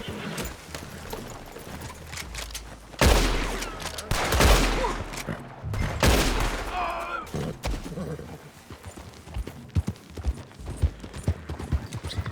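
Gunfire and galloping hooves from the open-world western video game Red Dead Redemption 2, with bursts of shooting around the middle over a dense, busy mix of game sound and clip-clop.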